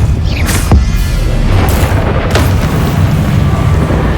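A Depulso spell fires in Hogwarts Legacy, producing a loud, booming force blast over a dense, rumbling game soundscape, with a few sharp whooshing bursts standing out.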